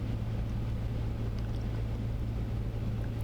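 A Cessna 152 propeller engine runs at around 1700 RPM, heard as a steady, continuous low drone with broadband cockpit noise and no change over the few seconds.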